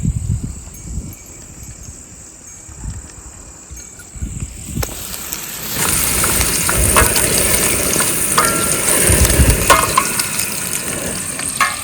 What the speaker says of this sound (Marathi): आता हा कांदा ब्राऊन होईपर्यंत त्याला आपण चांगलं फ्राय करणार आहोत